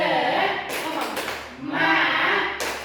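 Children in a classroom group perform a rhythmic spirit clap, short bursts of hand claps alternating with voices chanting and a teacher speaking.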